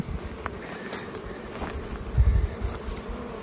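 Honey bees hum around a productive beehive fitted with a wet super, making a steady, loud, close buzzing drone that swells briefly, with faint background knocks.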